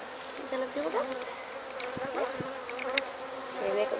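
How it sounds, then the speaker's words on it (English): Honey bees swarming around hives at an apiary, a steady close insect drone with individual bees whining past, no talk. "the buzzing when they're swarming all around you. It's a very nice, calming noise."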